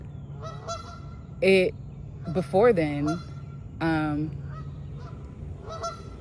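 A goose gives several loud, nasal honks, single calls and a short rapid burst, over a low steady hum. A voice speaks briefly in between.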